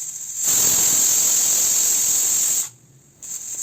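A pressure cooker cooking ridge gourd sabzi with dal lets out a loud, shrill, hissing whistle of escaping steam up close. It blasts for about two seconds, cuts off briefly, then starts again.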